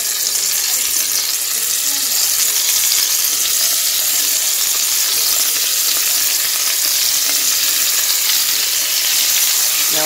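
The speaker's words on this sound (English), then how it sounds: "Now that my skillet is hot," Scallops searing in hot pancetta oil in a skillet, a loud, steady, close sizzle and crackle that fills the whole stretch without a break, with no talking.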